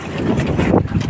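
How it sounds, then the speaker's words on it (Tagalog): Strong typhoon wind batters the microphone at sea near boats, a steady loud roaring gust with rushing noise throughout the short moment. "Malakas-lakas na hangin. May bagyo."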